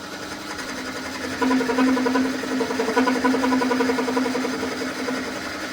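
A lathe drilling brass makes a steady mechanical whirring hum with a rhythmic buzz, rising in level partway through and holding, up close.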